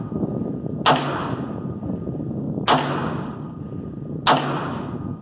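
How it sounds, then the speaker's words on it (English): Three 9mm shots from a blowback gun firing Federal ammo at an outdoor range, each a sharp loud crack evenly spaced about a second and a half apart over a steady background rumble. "Five rounds, and it cycles just fine."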